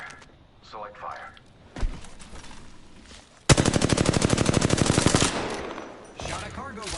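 Rapid automatic gunfire hitting a cargo bot in Apex Legends, a loud steady burst of about a second and a half, with quieter thuds and mechanical clunks before and after.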